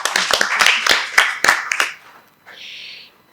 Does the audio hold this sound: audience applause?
yes